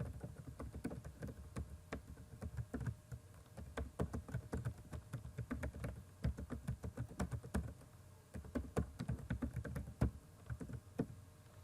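Java code is typed on a computer keyboard, quiet, rapid clicking keystrokes in uneven bursts with brief pauses, heard close and soft with no talking.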